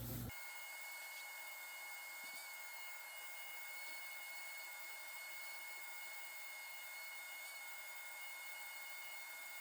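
A vacuum cleaner runs outdoors with a steady, loud, unbroken whine that starts abruptly and holds evenly to the end, with no talking.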